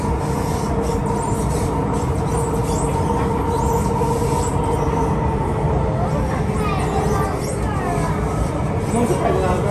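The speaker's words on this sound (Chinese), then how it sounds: "上海虹桥高铁" A high-speed train at Shanghai Hongqiao station gives a loud, continuous rumble of running wheels and carriages, with a steady rolling roar that stays close throughout.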